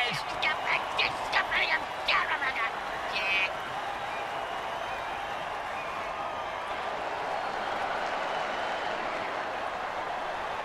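A stadium crowd roars steadily in a football video game, Blitzburgh Steelheads at Deadlanta Vultures in preseason, with a few whistles early on. The broad, even din carries on throughout while a commentator talks over it.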